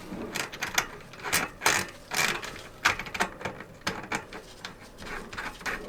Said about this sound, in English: And you'll hear that extra click. That's good. That means it's seated correctly